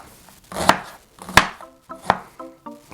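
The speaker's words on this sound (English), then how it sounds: "This onion does not want to be cut." A knife chops through an onion in about four sharp, crisp strikes on a cutting board, close up with short pauses between cuts.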